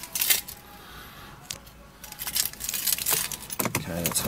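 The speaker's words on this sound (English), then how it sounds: "There's the two keys." Car keys for a 2011 Mercedes-Benz E250 CGI coupe jangle briefly in short metallic clinks, with a person speaking faintly nearby.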